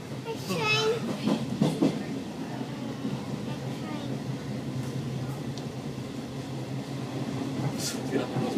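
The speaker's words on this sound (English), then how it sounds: "A train." A passing train gives a steady rumble and rail clatter throughout, with people talking and children's voices over it.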